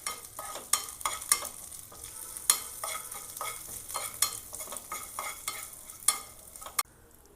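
Urad dal, dried chillies and curry leaves frying in oil for coconut chutney tempering, a soft crackle and fizz with sharp pops and clicks scattered across, fairly quiet and with no one talking.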